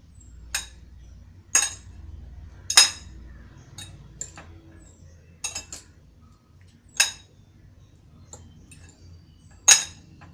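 A spoon clinks against a bowl while pomelo prawn salad is tossed. About eight sharp, bright taps come at uneven intervals over a quiet background.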